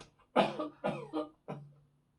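Three separate coughs, close up and fairly quiet, the first the strongest, with short pauses between them.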